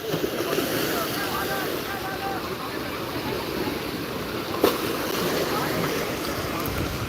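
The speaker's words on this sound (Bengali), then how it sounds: "এই যে ট্রলার চলে এসছে মাছ ধরে" Fishing trawler arriving near the shore at Digha Mohana beach, with a steady low engine rumble beneath wind and lapping water, with a brief knock partway through.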